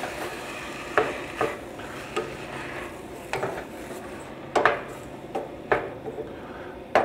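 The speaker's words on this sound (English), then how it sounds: "I'm gonna throw my chopped tomatoes in. Just stir them all in there." Chopped tomatoes being stirred into garlic in a cooking pot, with soft wet scraping and clinks of the utensil against the pot every second or so over a low background hiss.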